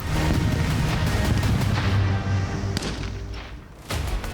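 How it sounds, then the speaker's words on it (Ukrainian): Heavy booming blasts of TNT charges simulating explosions in military training roll out in quick succession, deep thuds with sharp cracks, followed by a couple of distant pops as the rumble fades. "інструктори заклали вибухові установки, зокрема тротилові шашки, які за командою імітували вибух"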